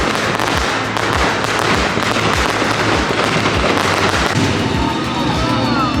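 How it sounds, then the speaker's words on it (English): Fireworks burst over Fantasyland at Disneyland in a rapid, steady string of thumping pops, loud and continuous, with crowd noise and murmuring voices underneath and no music. "There are fireworks in Fantasyland, but there is no soundtrack whatsoever."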